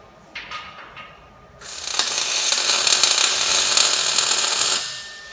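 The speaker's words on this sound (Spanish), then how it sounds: "Venga, empezamos a soldar." Arc welding on a welding table: a few faint clicks, then a steady, loud crackling hiss lasting about three seconds before it cuts off, no voices.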